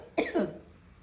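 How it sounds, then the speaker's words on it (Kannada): A single close, sharp cough from a woman who has been coughing repeatedly, a short harsh burst followed by a softer trailing rasp, then quiet room tone. "ಯಾಕಮ್ಮ ಇಷ್ಟೊಂದು ಕೆಮ್ತಾ ಇದೆಯಾ?"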